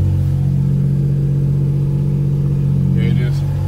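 Idling car engine after a Hellcat 525 fuel pump upgrade, a steady low rumble that wavers unevenly in and out, close and loud, with a brief higher whine near the end.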